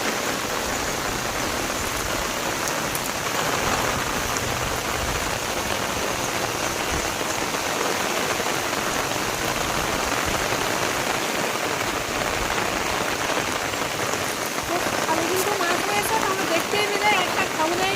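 Heavy rain pours steadily onto a pond, a dense, continuous hiss of drops hitting water that stays loud and even throughout.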